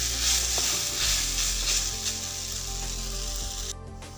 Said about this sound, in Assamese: শুকান হোৱালৈকে এনেকৈ লৰাই থাকিম